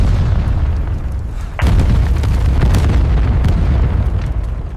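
Artillery shells exploding on a German column, a loud, continuous booming rumble with a heavy blast hitting about a second and a half in and lingering thunder after.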